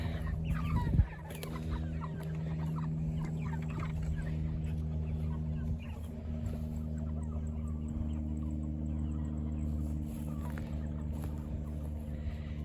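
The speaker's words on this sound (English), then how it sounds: "All the meat chickens outside of the garden." A flock of meat chickens clucks and chatters continuously nearby outside a garden in the evening, with a low steady hum underneath and a brief clatter near the start.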